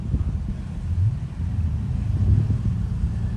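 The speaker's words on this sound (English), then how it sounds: "We have a silver Enzo rolling in too." A silver Ferrari Enzo rolls in at a Monterey Car Week Ferrari display, its engine a low, steady rumble with some wind buffeting over the microphone and no talking.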